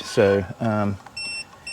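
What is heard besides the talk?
Aventon e-bike anti-theft alarm beeping when moved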